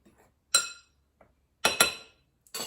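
Chopped pecans being stirred into a flour mixture in a bowl for vegan banana nut bread, heard as a few separate bright clinks and scrapes of a utensil against the bowl with quiet gaps between them.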